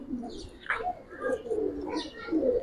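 A lively young pigeon coos up close in short rolling bursts, with a few brief chirps mixed in between the calls.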